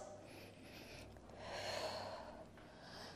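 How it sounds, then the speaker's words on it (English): A deep, breathy exhale comes during a Pilates reformer workout. It is soft and swells in the middle before fading, with faint breathing around it. "Find your deep exhales."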